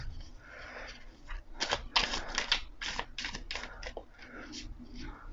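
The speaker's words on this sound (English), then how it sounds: "This is a small deck, so shuffling is easy." A small tarot card deck from The Night School deck set is shuffled by hand, giving a run of crisp, papery riffling bursts in irregular clusters, close and moderately loud against a quiet room.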